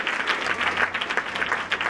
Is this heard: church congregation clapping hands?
yes